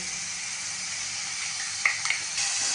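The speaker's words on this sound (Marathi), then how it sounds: "हा मसाला पण छान परतून घ्यायचा." A wet masala of ground chili, ginger, garlic and coriander sautés in hot oil in a pan, giving a steady close sizzle with a few brief stirring clinks near the end.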